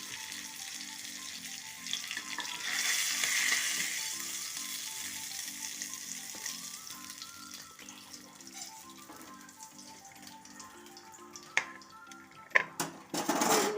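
Fish fries in a pan of oil with a soft, steady sizzle, close but fairly quiet, broken late by a few sharp clinks of a utensil against the pan.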